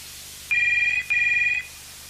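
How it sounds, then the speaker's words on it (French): A telephone rings in two bursts, each a sharp electronic trill lasting about half a second, separated by a short gap, fairly loud and near, with no talk over it. "Téléphone. Vous ne décrochez pas?"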